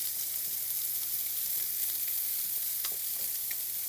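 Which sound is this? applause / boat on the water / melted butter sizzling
melted butter sizzling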